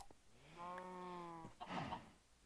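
A sheep in the video game Minecraft gives a single drawn-out bleat followed by a brief scuffing sound, quiet and close.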